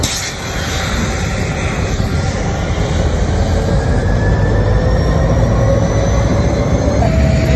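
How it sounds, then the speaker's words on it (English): The Indian Pacific train idles at a station while its locomotives are changed, giving a loud, steady, close rumble with faint tonal whines throughout and no speech. "Here's the station. I think they're changing locomotives."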